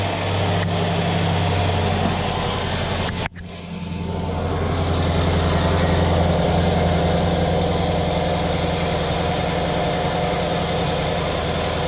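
A 2013 Mercedes-Benz GL550 sits in park with its engine idling, a steady low hum that dips briefly with a sharp clunk before settling back into an even, close drone.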